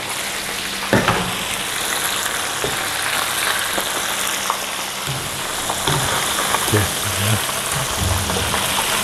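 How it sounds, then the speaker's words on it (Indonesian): Beef frying in hot oil for a Chinese-style stir-fry with salted vegetables, a dense steady sizzle close by with occasional clanks and scrapes of stirring, and brief bits of talk in the background. "Nah ini daging kita goreng ya."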